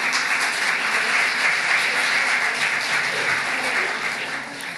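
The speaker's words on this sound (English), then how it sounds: "I just ask for a warm round of applause for all the hard work." Sustained audience applause at an afternoon immunization plenary session, dense and steady throughout, tapering slightly at the end, with no talking over it.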